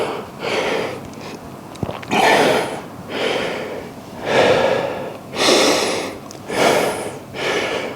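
Heavy, ragged breathing after a back and legs workout with Bulgarian split squats: seven or eight loud, close gasping inhales and exhales in a steady rhythm, breathy and slightly wheezy, with no talking.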